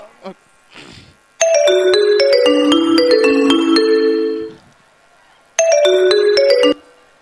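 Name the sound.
mobile phone ringtone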